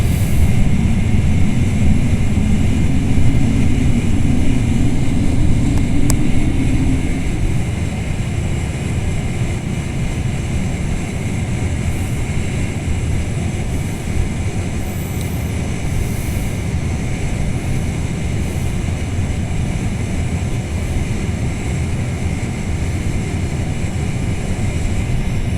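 Boeing 747-400 jet engines roar in flight just after takeoff in the FSX flight simulator, on a pattern at Fresno (KFAT). A loud, steady broadband rumble continues throughout, with a humming tone early on that fades after several seconds.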